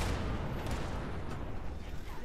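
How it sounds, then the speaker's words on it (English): Enemy gunfire in Fallout 76, a dense and continuous rumble of shots and blasts that blurs together into a heavy, steady roar. "There's a whole bunch of them trying to shoot me."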